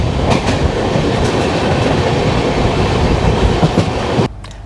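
Inside the 12320 Gwalior Kolkata Superfast Express running on rails between Durgapur and Kolkata, a loud steady rumble with rhythmic clickety-clack wheel beats fills the carriage, then the sound drops off abruptly near the end.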